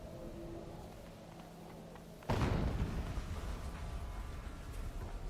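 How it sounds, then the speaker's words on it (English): A loud explosion bursts in the video game Horizon Zero Dawn, a sudden heavy boom at about two seconds that leaves a rumbling, crackling tail over a low background hum. "An explosion."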